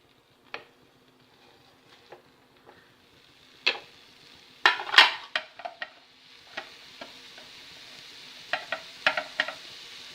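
Carrot and beetroot pieces hit a pan and are stirred, giving a soft sizzle under a series of sharp scraping and clinking stirring strikes, irregular and close, busiest in the middle and near the end.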